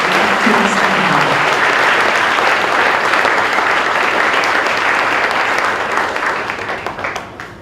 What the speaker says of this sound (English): Can we just please give them another round of applause?